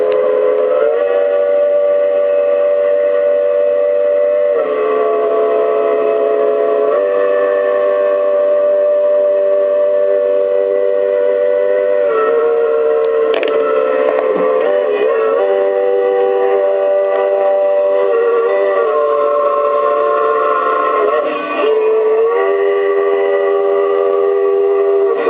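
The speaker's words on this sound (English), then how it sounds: "You can hear that locomotive whistle blow." Cumbres and Toltec Scenic Railroad steam locomotive whistle sounding a long, loud, sustained chord that shifts pitch a few times, held steadily for the whole stretch with no talk over it.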